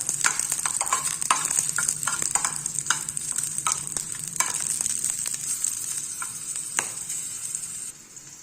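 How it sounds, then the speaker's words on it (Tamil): Garlic cloves and a piece of ginger sauté in a pan for a coconut-free chutney, giving a loud, continuous hiss and crackle with frequent sharp stirring clicks and scrapes, close up and without speech. "ரெண்டு பூண்டு பல்லு ஒரு இஞ்சி துண்டு இதையும் இதோட வதைக்கலாம்"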